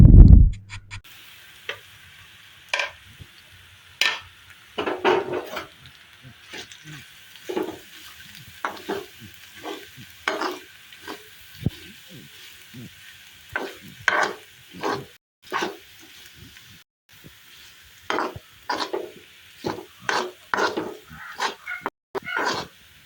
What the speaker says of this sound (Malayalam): നല്ല പോലെ ഒന്ന് വഴറ്റിയിട്ട് എടുക്കണം